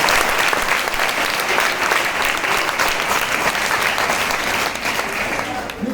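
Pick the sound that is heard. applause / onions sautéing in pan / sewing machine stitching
applause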